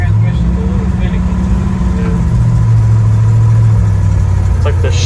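A 1966 Ford F100 pickup engine runs steadily at idle with a low, even rumble while the finicky transmission is shifted through an aftermarket floor shifter. Muffled voices may sit under the engine.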